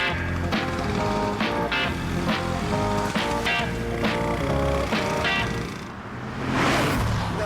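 Scooters speeding toward an airport, a loud continuous rushing roar of engine and wind with repeated rhythmic bumps, dipping briefly near the end before a swelling whoosh.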